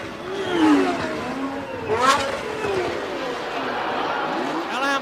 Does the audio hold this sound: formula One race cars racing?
yes